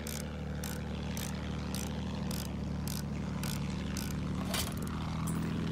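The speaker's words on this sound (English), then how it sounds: "Bir tayyare görüyorum!" A propeller plane drones through the sky over a Battlefield 1 fight at Fao Fortress, a faint, steady aircraft hum mixed with regularly spaced bursts of gunfire-like crackle.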